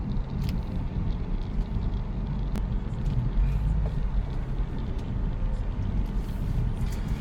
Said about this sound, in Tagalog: ang traffic ay usad-usad lang